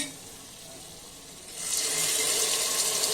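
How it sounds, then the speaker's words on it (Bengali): Water splashes into a pan of frying ground chilli, turmeric and coriander spices, starting after a quiet sizzle and becoming a loud, steady rushing hiss that holds to the end. "একটু পানি দিয়ে দিলাম"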